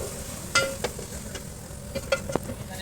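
Onions for chicken biryani frying in a pan, a faint background sizzle broken by a few scattered stirring clicks and scrapes.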